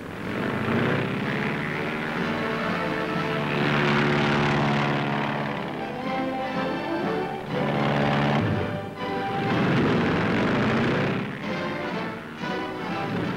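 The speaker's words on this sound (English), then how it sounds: "Special cables are attached to the planes which take off with the aid of catapult equipment." Propeller planes are catapult-launched from an aircraft carrier headed into the wind on Arctic operations, their engines droning loudly and steadily with rising and falling surges as they take off. No one speaks.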